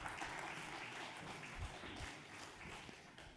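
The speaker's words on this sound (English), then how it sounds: "Let's give the Lord a hand clap of praise for his continued ministry." A church congregation claps together in a steady, faint wash of applause lasting a few seconds during a worship service.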